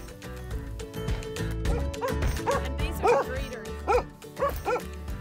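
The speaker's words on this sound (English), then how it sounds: "today we are going to see and hold our pup, an almost 7-week-old Aussie Labradoodle." An almost seven-week-old Australian Labradoodle puppy gives a series of high yips and whimpering barks, close by and growing more frequent, over background noise and some talking.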